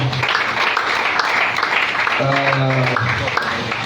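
A church congregation claps and cheers together in a steady, dense wash of applause, with voices calling out and a brief sung or shouted note rising through the middle.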